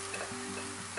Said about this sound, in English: And now just fry it off for a couple of minutes.